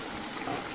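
Water poured from a blender jar into ground roast masala for a fish curry, a continuous close gushing splash that stays steady and fairly loud throughout, with no voices.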